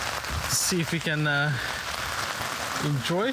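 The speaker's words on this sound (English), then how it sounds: "So it's raining." Steady rain falling at a campsite in Sibbald Point Provincial Park, a continuous close hiss of drops on surfaces throughout, with people talking over it.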